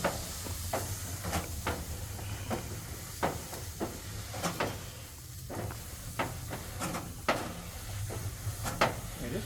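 Steam hisses off a hot BBQ grill as it is scrubbed clean, a continuous soft hiss with low rumble, broken by repeated sharp scraping and clacking strokes at an uneven rhythm.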